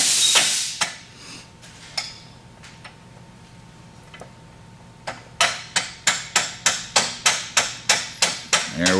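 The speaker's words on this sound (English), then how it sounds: "what we're actually going to do is punch right through it so that it maintains the puck in place" Hammer blows drive a bicycle axle through painter's tape holding a puck in place: a few scattered taps early, then a steady run of about a dozen sharp, evenly spaced strikes, close and loud.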